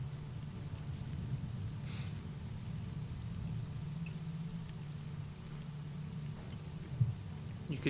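Steady rain falls and patters on a surface, a continuous moderate hiss with a low rumble beneath and one sharper knock near the end.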